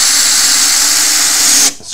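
A power drill drives screws into pallet wood with a steady, close, high whine that runs unbroken for most of the moment, then cuts off abruptly near the end.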